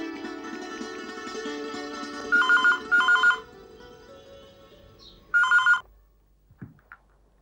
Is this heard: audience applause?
no